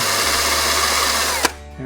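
A power drill whines steadily as it bores into aluminum while replacing RV vinyl trim, then cuts off abruptly near the end with a short clatter.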